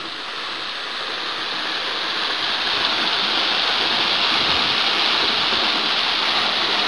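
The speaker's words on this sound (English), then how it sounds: "It's a bit of a hidden waterfall back in, well, way back in one of the coves and behind some trees off the main creek." A hidden waterfall in a creek cove off the main stream at Little Sandy, Kentucky, gives a loud, steady rushing roar that builds slightly and keeps going without a break.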